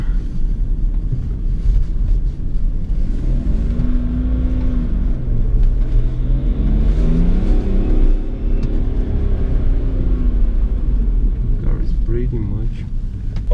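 A remapped BMW 535d diesel with 370 horsepower drives hard on an open road, its engine rumbling loudly and continuously under wind buffeting, with the revs swelling and dropping as it accelerates.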